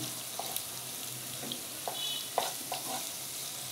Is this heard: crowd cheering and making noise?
no